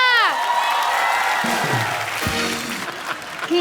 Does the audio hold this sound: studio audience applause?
yes